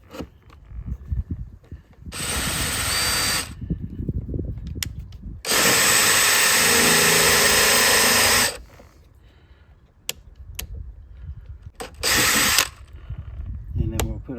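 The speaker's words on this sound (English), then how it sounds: "let's drill a new hole" A power drill bores a new hole for a screw in three loud whirring bursts, the middle one longest, with quieter handling noise and low voices between them.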